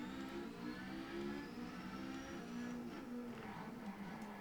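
Toyota TS040 race car engine in Assetto Corsa on the Nordschleife, a continuous high-pitched engine whine holding steady with small pitch shifts, faint and distant under no talk.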